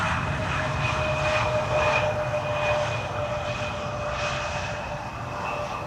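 An Antonov 24 turboprop coming in to land at Schiphol on the Polderbaan in drizzle, its steady engine drone and propeller whine holding at moderate distance with no voices over it.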